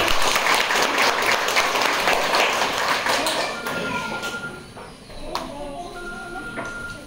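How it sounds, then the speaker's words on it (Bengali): An audience at an ex-servicemen family welfare program claps loudly and steadily, then the applause thins into scattered claps and fades, with a few taps and thuds and some voices toward the end. "একটা জোরে হাততালি হয়ে যাক"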